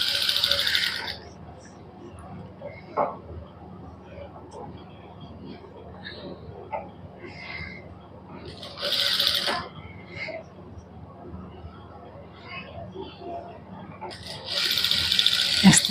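A sewing machine stitches a suit sleeve in short bursts of rapid mechanical whirring, with quieter stretches in between and a person talking.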